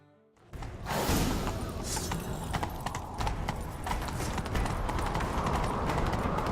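Rapid hoofbeats of a galloping horse in The Witcher 3 pound steadily and loudly after a brief quiet start, with clattering game sound effects layered over the run.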